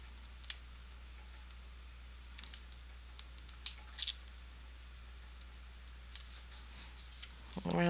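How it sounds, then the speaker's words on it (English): Scissors snip through sticker paper while a journal cover is trimmed, giving a few sparse, crisp cuts and small handling clicks spread across a quiet room, with no talking. "I'm going to have to do some cutting here."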